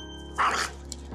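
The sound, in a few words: dog barking aggressively at another dog on a walk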